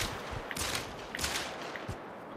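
Glock pistol shots in theHunter: Call of the Wild on a savanna hunt crack in a quick series of about four or five sharp bursts, fairly faint over a noisy background.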